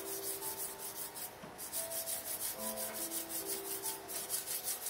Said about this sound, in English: If you would like to remove the top layer of skin, you can use a sharp knife and scrape out the skin.